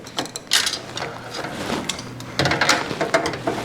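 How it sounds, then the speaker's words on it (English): Screws being backed out of the bracket that holds a graphics card to a computer chassis give close, dry ratcheting clicks and scraping metal taps in short bursts, with no talk. "then we'll take the screws connecting the GPU to the chassis"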